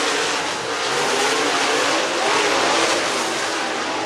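A dirt late model race car roars hard out of turn four on a short track, a loud, steady, close engine drone with faint tire scrub, no voices.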